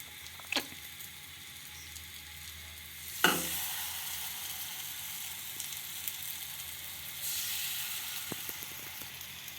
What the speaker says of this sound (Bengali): এরপর আমি চিকেনগুলো একটা একটা করে দিয়ে দেবো।